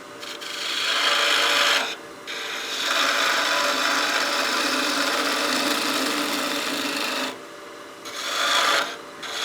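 A woodturning tool cuts a spinning piece on a lathe while shaping a small bat house ornament, producing a rough, raspy scraping hiss in long passes broken by short pauses.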